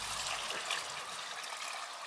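Water trickles and splashes steadily into a fishing groundbait mix on a riverbank, a close, continuous pouring sound with no talk.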